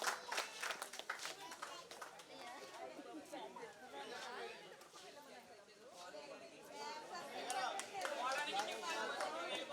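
An audience at a church Christmas celebration claps for the presenters. Bursts of applause rise at the start and again near the end, mixed with lively crowd chatter throughout.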